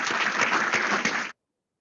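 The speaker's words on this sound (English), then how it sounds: "please join me in a round of applause for our special" A crowd claps for a special guest at a Secretary of Defense Freedom Award celebration, brisk even applause for just over a second before it cuts off abruptly into silence.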